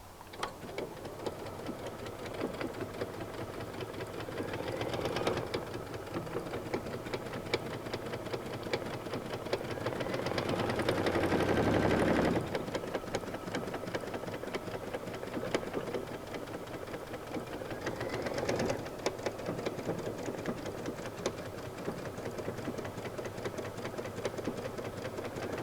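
A Brother Luminaire sewing machine stitches a buttonhole with a fast, continuous mechanical whir and rapid needle ticking, close and steady throughout, swelling briefly in the middle and again later before settling back to an even hum.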